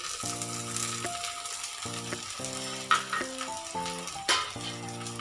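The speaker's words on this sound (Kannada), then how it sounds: "ಇದು ಸ್ವಲ್ಪ ಎಣ್ಣೆ ಜೊತೆ ಫ್ರೈ ಆಗಲಿ." Chopped capsicum and tomato fry in oil for restaurant-style rava vangibath, with a constant crackling sizzle and intermittent metallic stirring scrapes and clinks of a spatula against the pan, close and continuous without voices.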